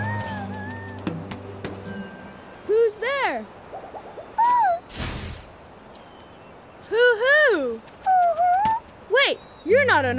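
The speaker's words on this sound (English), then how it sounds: "You're an owl. A tiny owl." A tiny cartoon owl hoots in the Paw Patrol Academy game, several loud bright hoots in short bursts with pauses between them, alongside gentle background music.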